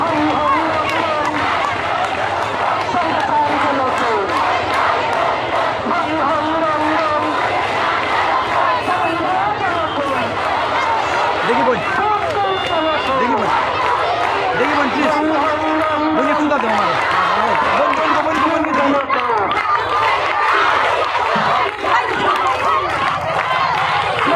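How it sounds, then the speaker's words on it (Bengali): Nursing students at a protest in Dakshin Surma, Sylhet, chant slogans together as a loud crowd, with steady rhythmic group shouting that continues throughout. "তাদের স্লোগান শুনুন"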